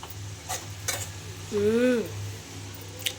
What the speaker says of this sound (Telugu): మా మమ్మీ చూడండి ఫ్రైడే అని వంటలు చేస్తుంది